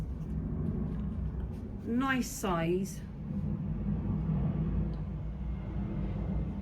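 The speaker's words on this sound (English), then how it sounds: "You can hear the aeroplane in the background." An aeroplane from RAF Brize Norton passes overhead as a low, steady background rumble that lasts throughout, distant and fairly faint, with a brief spoken remark near the middle.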